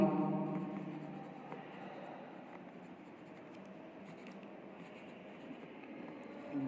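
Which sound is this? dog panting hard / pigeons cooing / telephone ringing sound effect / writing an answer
writing an answer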